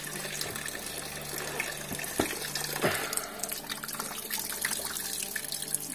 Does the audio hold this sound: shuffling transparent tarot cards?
no